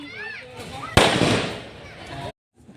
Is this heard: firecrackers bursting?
yes